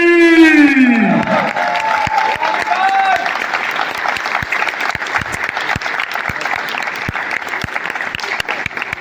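An audience claps steadily during the team introduction for the stage play Aseer e Azadi. A brief tonal sweep opens the sound, then dense applause carries on, close and loud, with a faint crowd murmur.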